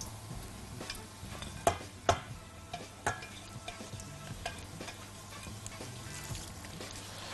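Chicken liver and gizzards frying in ghee and oil, a steady soft sizzle broken by a few sharp clicks and taps of a spoon against the pan, close and with no talking.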